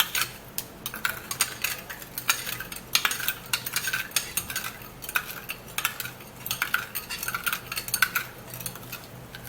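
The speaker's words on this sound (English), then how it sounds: "you stir really well for all of the mixture to mix" A spoon stirs a skin-toning remedy mixture in a bowl, giving rapid, repeated metallic clinks and scrapes at close range, with no voice over them.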